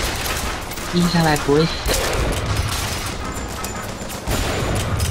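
Rapid gunfire crackles in BioShock Infinite, with a burst of shots among sniper-rifle fire and game sounds while a person speaks over it.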